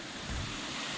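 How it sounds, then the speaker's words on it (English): Small waterfall at a trail water crossing, heard as a steady broadband rush of falling water mixed with wind buffeting the microphone, fairly faint and continuous. "there's this little water crossing with this cool boss little waterfall"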